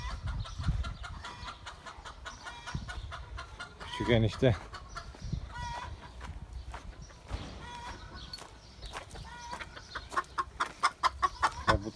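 Chickens cluck and squawk up close in a coop, in scattered bursts, with a voice speaking briefly and some shuffling in the background.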